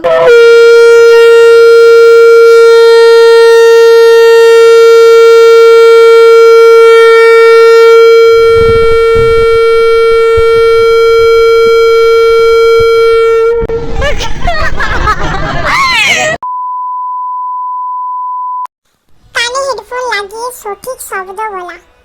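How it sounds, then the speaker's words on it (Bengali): A conch shell blown by a woman at a village cultural gathering: one long, loud, steady horn-like blast lasting over ten seconds, then crowd noise and voices, with a short pure tone and chatter afterwards. "অনেকেই আগে শঙ্খ বাজিয়েছে সেটার ভিডিও আমি করতে পারিনি তো এখন আমার মা বাজাচ্ছে"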